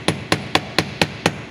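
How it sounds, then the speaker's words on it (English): A hammer strikes copper wire on a steel bench block six times in a steady, evenly spaced rhythm, each blow a sharp, bright metallic tap standing alone and close up while flattening the wire for jewelry. "hammer it a little all the way around with the hammer"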